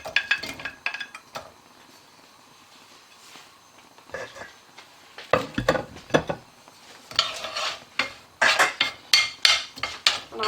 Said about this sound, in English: I'm going to fry these until they're brown